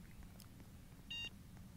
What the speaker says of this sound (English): Listen to that beep.